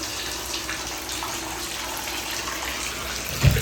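Tap water runs steadily into a sink after the water heater has been drained of rust, a constant close hiss and gush with a small knock near the end.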